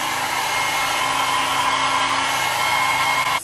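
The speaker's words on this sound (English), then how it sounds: "And then we're gonna blow dry over that as well." A hair dryer blows steadily on a highlighted wig with bangs during an install, a loud, constant close-up whir that holds unchanged for the whole stretch before cutting off.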